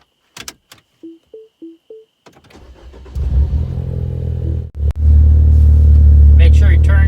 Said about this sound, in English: Okay, so now go ahead and start your car.